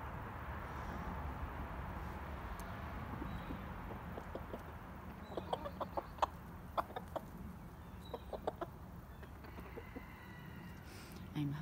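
Chickens of a silkie mix cluck softly and intermittently while being fed, short scattered calls over a quiet outdoor background.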